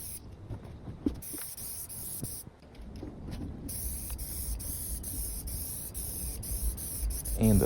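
Paint sprays from an aerosol can onto an old metal table in several hissing bursts with short pauses between them, close and fairly quiet.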